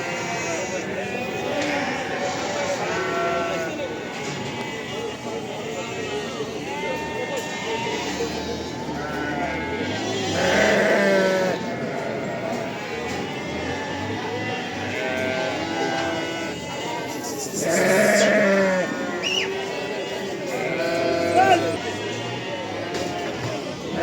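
Lambs and sheep bleat repeatedly at a busy livestock market in Barda, several calls rising above a constant crowd murmur while people talk nearby.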